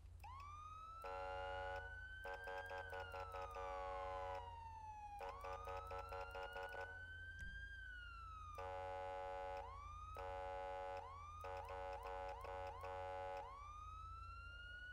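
An electronic police siren from a video game wails up and down continuously, repeatedly cut by rapid staccato air horn blasts in air horn interrupt mode, loud and close.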